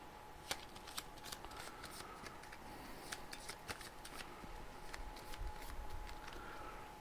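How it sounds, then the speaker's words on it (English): A discard deck of playing cards from a My Little Pony deck-building board game being shuffled by hand, quiet riffling bursts and soft card snaps close up, repeated in several passes against a faint background hum. "So we'll shuffle up the discard deck."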